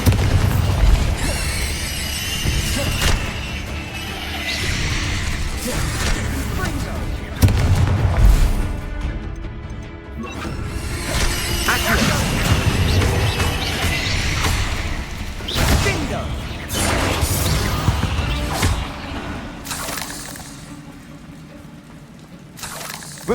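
Spell explosions from the Bombarda curse in Hogwarts Legacy, a series of loud booming blasts with crackling debris and rushing, splashing noise over dense game effects, repeating across the span.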